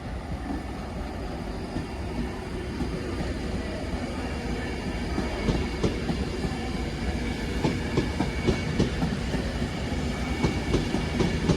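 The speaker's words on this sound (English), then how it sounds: "there goes the 1023 Avanti West Coast service from Liverpool Line Street to London Euston, 390-043" Avanti West Coast Class 390 unit 390-043 pulls out of Crewe on the service to London Euston, with a broad, steady rumble and faint clickety-clack of wheels that builds slightly as it goes.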